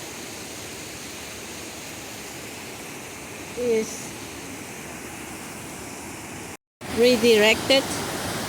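Rain-swollen creek in Yountville, California, flowing steadily and fairly near as a broad continuous rush of water, with someone speaking briefly over it a couple of times.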